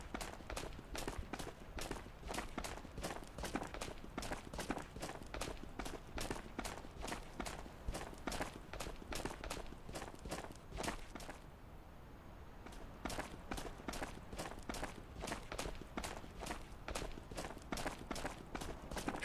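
Rapid, even footsteps in the VR shooter Ghosts of Tabor thud close and loud in a steady running rhythm, pausing briefly partway through before resuming.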